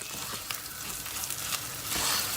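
Tomato paste frying in a pot for tomato and pepper vermicelli soup, a dense steady sizzle with scattered crackles and occasional stirring scrapes, close and continuous.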